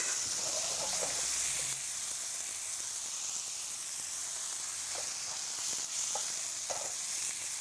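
Pad Thai noodles cook in a hot pan with a soft, steady sizzle and hiss, broken by a few quiet stirring scrapes and clinks, heard close up with no voices.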